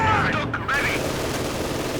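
Dense gunfire from a Company of Heroes 2 2v2 battle, with a machine gun holding a position, rattling loudly under game noise. A voice talks over the firing throughout.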